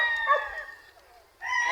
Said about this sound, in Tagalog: Tapos manukan yun.